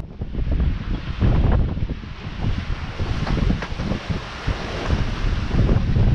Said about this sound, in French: 40 nœuds devant, une mer magnifique. Magnifique aujourd'hui. Regarde ça, ces montagnes d'eau là qui arrivent.